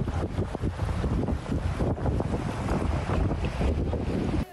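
Floodwater from a burst water main rushes through flooded, muddy streets in Franca, Brazil, a constant loud broadband roar with heavy wind buffeting on the microphone and no voices.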